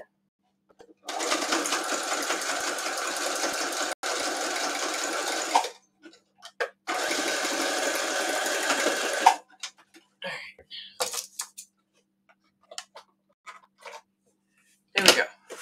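A sewing machine stitches a journal cover with pockets in two long, steady runs of rapid mechanical whirring, separated by a short pause, followed by quiet speech and small handling noises.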